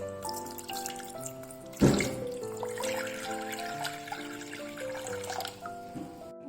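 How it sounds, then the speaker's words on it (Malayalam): Two cups of water poured into a pot while making a turmeric-ginger immunity drink, with a brief splashing gush near the start over a steady backdrop of music. "ഇതിലേക്ക് 2 കപ്പ് വാട്ടർ ഒഴിക്കാം"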